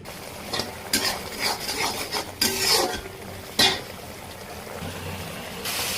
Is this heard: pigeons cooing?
no